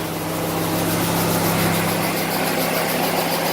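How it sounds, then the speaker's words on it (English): Rotary engine of a solid-mounted Mazda RX-7 FC idling steadily up close, a smooth continuous hum with a low drone and no other sounds over it. "That is a smooth running engine."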